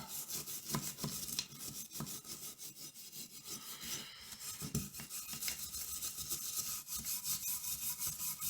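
Rubbing a WD-40-sprayed part of an old hand plane during restoration produces a rhythmic back-and-forth scrubbing, with regular close strokes roughly every half second that continue steadily throughout.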